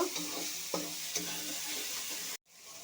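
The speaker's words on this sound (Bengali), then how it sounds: "আবার একটু কষিয়ে নেব।" Green chili paste for an egg curry is stir-fried in a pan, with a quiet sizzle and a few spoon scrapes before a brief cut of silence near the end.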